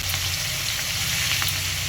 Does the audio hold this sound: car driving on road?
no